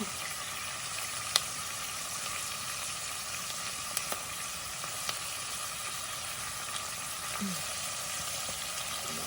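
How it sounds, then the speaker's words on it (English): Green Thai curry paste sautés in a pan with a quiet, continuous sizzle and a few faint clicks of a utensil against the pan. "we're going to saute the green Thai curry paste"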